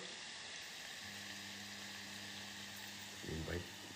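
Onion bhajis frying in hot oil give a steady, faint sizzle and crackle throughout, with a brief burst of louder bubbling near the end.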